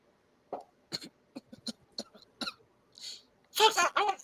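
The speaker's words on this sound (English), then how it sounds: "Folks, I'm terribly sorry for my coughing" A series of short coughs and throat-clearing bursts, spaced irregularly, followed by a louder cluster of coughing near the end; fairly close and distinct.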